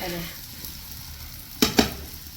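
Onion, tomato and masala frying in a pan give a steady low sizzle, broken near the end by two sharp scraping clicks of a spoon stirring against the metal.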